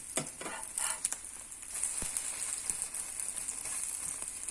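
An egg sizzles and fries in a hot 23 cm pan for Korean chive pancakes (buchujeon), a steady close hiss with light scraping and stirring clicks against the pan.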